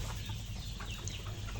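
Desi hens clucking on a farm, a low continuous murmur of soft clucks at a moderate distance with no voices over it.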